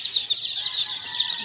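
Chickens at a poultry farm in Carcar, Cebu, clucking and chattering in a busy, continuous flock chorus, close and fairly loud, in a short burst.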